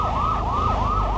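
Wailing ambulance siren from a car parking video game, rising and falling in a steady repeating sweep about three times, loud and continuous with a low engine hum beneath.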